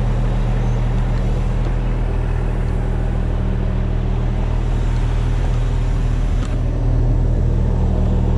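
A Caterpillar 320F excavator's diesel engine drones in a steady, loud, close low rumble as the machine swings around on a trailer deck, holding an even level throughout.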